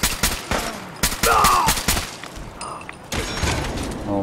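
Rapid gunfire bursts in Fallout 4, loud and close, several volleys with short gaps and a brief whistling ricochet-like tone, no speech.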